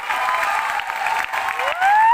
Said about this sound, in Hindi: जोरदार ताली होना शुरू कीजिए